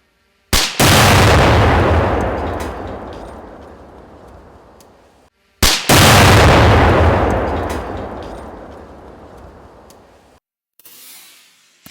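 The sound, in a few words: ANFO and C4 explosive detonation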